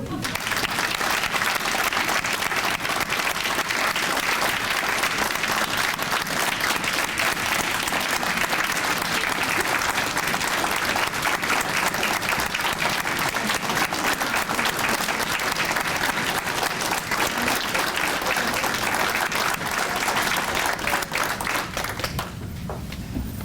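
A large audience at an awards breakfast applauds the honorees with dense, sustained clapping that runs loud and even for over twenty seconds before tapering off at the end.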